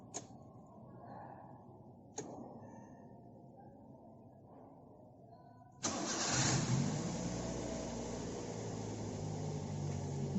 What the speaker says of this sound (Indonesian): Berikutnya kita nyalakan kendaraan.